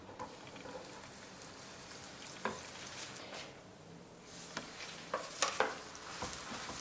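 Soft yeasted flatbread dough frying in hot oil gives a steady, moderate crackling sizzle, with a few sharper pops standing out near the end and no talking.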